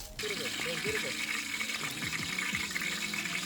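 Water runs steadily, as if poured or flowing from a tap, while things are rinsed at a rustic campsite near Chavand Fort, with someone talking over the continuous wash.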